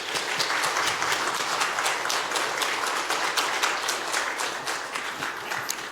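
A church congregation at a Sunday afternoon worship service applauds to welcome a missionary, loud sustained clapping filling the room without talk.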